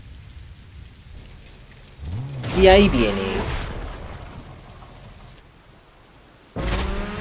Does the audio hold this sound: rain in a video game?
yes